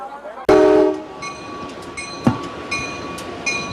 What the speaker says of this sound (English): A train now making its way up the tracks.